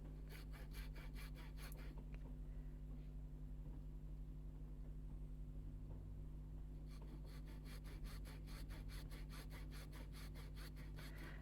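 Hand saw cutting into wood to make a bridle joint, with fast rhythmic back-and-forth rasping strokes up close, a pause in the middle, then another run of quick strokes over a steady low background hum.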